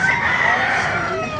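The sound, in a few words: chickens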